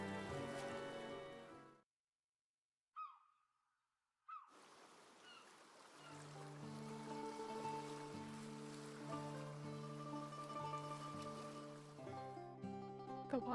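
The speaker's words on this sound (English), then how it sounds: "The water sound is so nice." A soft, steady wash of flowing stream water from the game Triangle Strategy plays under layered music after a short silent gap, faint and continuous throughout.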